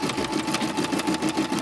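A Brother SE 400 embroidery and sewing machine stitches an applique with a rapid, even mechanical chatter and a steady motor hum. The sound is close and continuous, with no voices.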